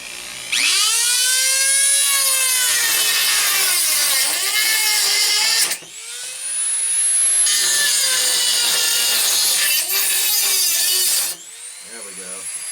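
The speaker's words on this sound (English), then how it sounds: "I'll use the Dremel to cut some of this out" A Dremel rotary tool cuts through a thin metal cookie sheet to build a stove, giving a loud, close, high-pitched grinding whine in two long passes split by a brief pause.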